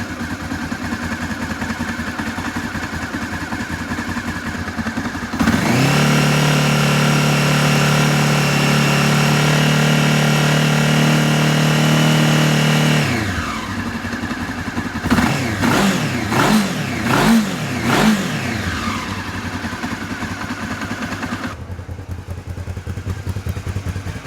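A Honda CB500 motorcycle engine runs through a carburetor sync: a steady idle, then a louder held rise in revs for several seconds, followed by a burst of quick throttle blips before it settles back to a low idle.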